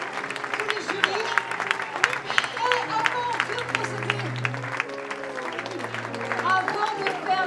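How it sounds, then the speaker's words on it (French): A large audience applauds at a festival closing ceremony, dense clapping continuing throughout while a person talks over it. "On peut les applaudir pour ces 8 jours de folie."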